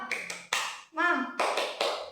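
A class of schoolchildren claps a rhythmic spirit clap together, sharp, close bursts of hand claps in a short pattern, with a voice chanting briefly between them.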